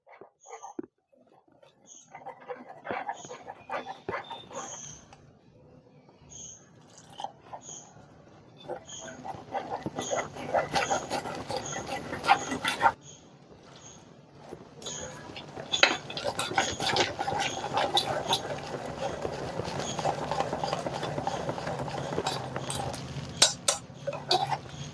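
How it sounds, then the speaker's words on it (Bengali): A spoon stirs water into a sweet batter in a bowl, with soft repeated scraping and occasional light clinks against the bowl, faint and close, and a voice talking quietly in places. "এবার অল্প অল্প করে জল মিশিয়ে একটা মিশ্রণ তৈরি করে নেব"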